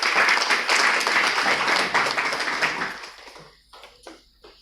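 Audience applause at a gathering in Bilaspur, a loud dense burst of clapping that fades after about three seconds into a few scattered claps.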